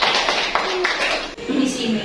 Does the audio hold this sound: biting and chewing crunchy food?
no